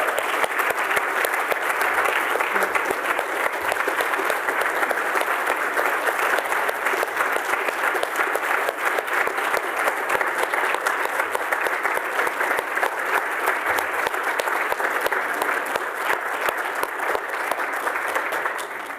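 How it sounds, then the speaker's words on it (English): A room full of people applauds at a fall celebration gathering, a long steady roar of many hands clapping at even loudness without letup, and no voices standing out. "let's give Mark a round of applause one more time"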